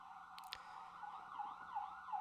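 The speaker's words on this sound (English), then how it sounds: "My apologies about the sirens, guys." Emergency vehicle sirens wail outside, a rising and falling tone heard faintly through walls, with a brief burst of clatter early on and no talking.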